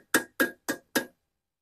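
A hammer presses down the floor liner of a 2011 Isuzu Panther Grand Touring, giving four sharp, evenly spaced knocks up close, each with a brief ringing tail, followed by silence.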